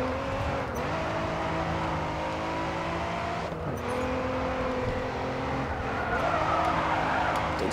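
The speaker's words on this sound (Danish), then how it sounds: "Den skrider godt, den anden her." A race car in the Grid 2 racing game skids through a corner, engine droning loudly with sustained tire scrubbing and shifting revs across the whole stretch, close and continuous, no talking.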